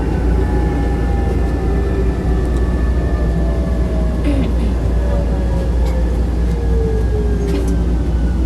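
An MRT metro train rumbles in with a loud, continuous low roar and rising and falling whines, steady throughout with no clear talk.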